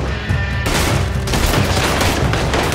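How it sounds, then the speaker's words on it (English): Loud gunfire in a Red Dead Redemption 2 shootout, rapid overlapping shots and booms forming a dense, continuous fusillade with no talking over it. "Where are they firing from?"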